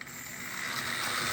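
A 1968 Tyco toy train motor runs on the track, a steady whirring mechanical buzz with a light ratcheting clatter, close and moderately loud.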